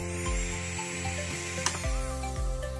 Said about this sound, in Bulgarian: пила ще започне да работи само когато натиснете педала